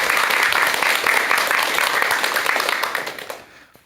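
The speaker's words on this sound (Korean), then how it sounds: "큰 박수와 함께 청해 듣도록 하겠습니다" Sustained applause from a lecture audience welcoming a speaker, dense and steady clapping that fades out near the end.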